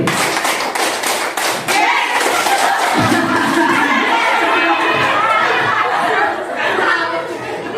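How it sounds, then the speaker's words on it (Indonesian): A group plays a counted clapping game, with a run of quick, rough claps at the start giving way to loud crowd chatter and lively voices that continue throughout. "Tepuk 4 kali."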